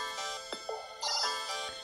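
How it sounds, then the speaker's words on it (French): A short electronic ringtone on a Nothing Phone (2a) plays alone, a quirky sequence of synthetic tones and glides over a faint steady hum, heard up close. "On met juste une sonnerie"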